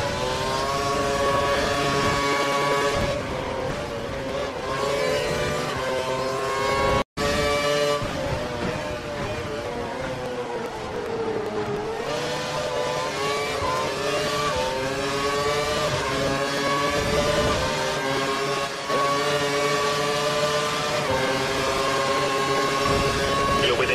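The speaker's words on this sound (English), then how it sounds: "He's running full revs, maximum power." A race car engine screams at full revs in a racing game, with dense harmonic tones climbing and shifting through gear changes over a long, continuous loud run. There is one brief dropout, and no voices.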